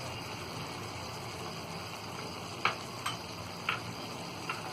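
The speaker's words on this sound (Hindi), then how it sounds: "इन सारी चीजों को अच्छी तरह अब हम मिक्स कर देंगे" Mutton kadai cooking in a pan with garam masala, salt and ground black pepper, a steady close sizzle of frying meat with a few sharp clinks of a spoon stirring against the pan, no voices.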